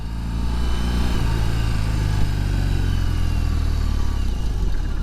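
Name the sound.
2021 BMW R 18 motorcycle engine, 1800 cc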